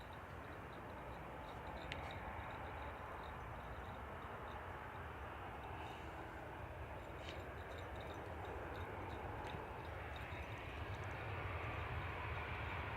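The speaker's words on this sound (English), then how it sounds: "Iberia's taxiing out for departure on T3 left." An Iberia airliner taxis out for departure at Manchester Airport, a steady, distant engine hum holding at an even level throughout with no voices.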